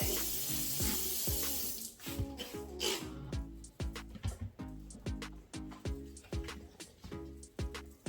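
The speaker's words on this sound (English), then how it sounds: "let's rinse the hands" Running tap water splashes as hands are rinsed, a close, continuous spray broken into uneven gurgling and dripping bursts, with no talking.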